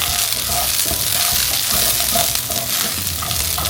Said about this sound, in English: So then I'm going to put the Brussels sprouts in the same pot. Let it coat with the olive oil.